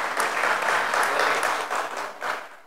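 An audience at a graduation ceremony for Islamic preacher cadres in Jakarta claps loudly and steadily, dense applause from many people filling the hall, tapering slightly near the end.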